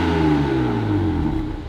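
BMW G80 M3 Competition fitted with an iPE exhaust, revved once up close: a loud, rising engine note that peaks and falls away smoothly over under two seconds, with no talking.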